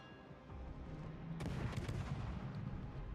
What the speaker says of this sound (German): Ah, jetzt kommen die Schüsse rüber.